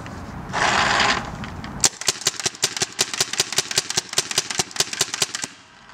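A Rap4 UK T68 Lok Bolt paintball marker with a box magazine fires full auto: after a brief hiss, a rapid, even string of about two dozen sharp pops rattles out close and loud for four seconds, then stops.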